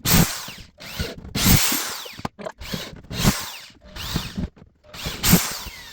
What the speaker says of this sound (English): I'm just going to drill a couple holes.